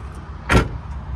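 Button-operated power window on a 2018-2021 Honda Accord with the 1.5 engine, heard as one short, brief whir of motor movement rising out of a quiet cabin hum, with no voices over it.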